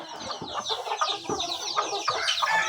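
Chickens clucking steadily on a rural Thai farm, several birds close by with overlapping bursts of clucks and squawks, no talk.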